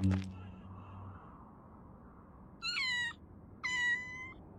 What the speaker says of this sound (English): A cat? You frightened me for a second, kitty.